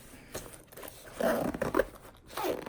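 Zipper closing on a mountain biking hip waist pack, a few quick rasping pulls with short pauses, close and fairly quiet.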